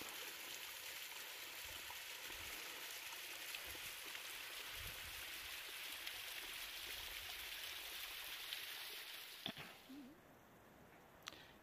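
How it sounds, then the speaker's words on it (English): Steady rushing and splashing of a small waterfall, a constant broadband wash of water throughout, ending with a few brief knocks as it quiets slightly. "nice little waterfall"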